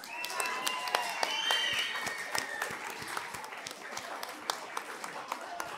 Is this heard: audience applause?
yes